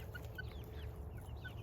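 Small Yokohama chickens cluck softly in a farmyard roost, a few faint high calls repeating over a steady low background hum.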